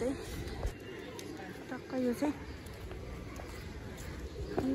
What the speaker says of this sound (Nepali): यहाँ चाहिँ चराहरू छ परेवालाई दाना दिने ठाउँ